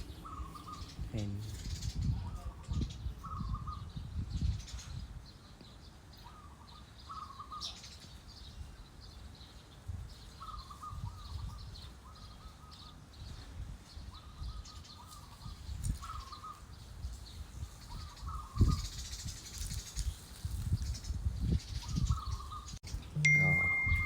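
Birds call in short, repeated chirps spaced through a long stretch, over low rumbling noise and scattered thumps outdoors.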